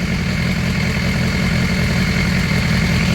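A 2018 BMW S1000XR motorcycle engine idles up close, a loud steady rumble with a faint irregular flutter throughout, with no voices.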